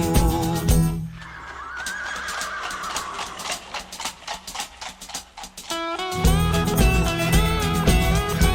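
A horse's whinny rises out of an OPM song about a reckless kalesa driver whipping his horse, a stretched neigh heard over the music between bursts of full band accompaniment.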